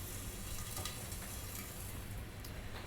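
Vegetables frying in a hot pan are turned over, giving a continuous, quiet sizzle with faint stirring noises.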